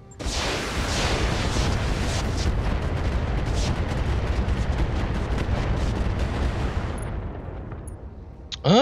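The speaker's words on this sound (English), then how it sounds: "shoot at that turret" Dense weapon fire aimed at a turret in the Battletech video game, a loud sustained barrage of booming, crackling shots and blasts lasting about seven seconds before cutting off abruptly.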